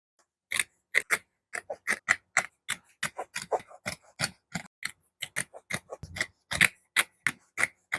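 Scissors cutting fabric along a drawn pattern line for a handbag, a close, crisp series of snipping cuts in an irregular rhythm, quiet room with no talk.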